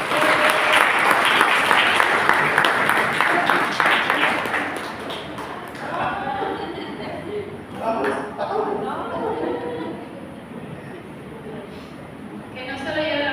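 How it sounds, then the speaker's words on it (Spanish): Audience applause after a storytelling night of legends from southern Jalisco: loud, dense clapping that fades gradually, while a voice speaks over the dying applause. "le damos por favor otro fuerte aplauso a don Gonzalo"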